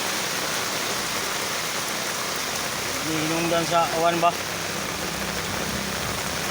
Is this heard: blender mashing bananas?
no